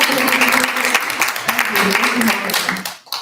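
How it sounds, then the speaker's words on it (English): Crowd applause after a song at a music event, with dense clapping filling the space at a loud, even level, voices and cheers mixed in underneath before it drops away at the end. "A round of applause for our song,"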